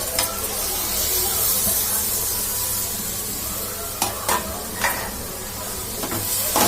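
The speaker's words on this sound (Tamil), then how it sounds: "இஞ்சி பூண்டு பேஸ்ட் போட்டு நல்லா வதக்கணும்" Ginger garlic paste sautés in hot oil for chicken gravy, giving a continuous loud sizzle with scraping stirs and a few sharper spatters and clatters partway through.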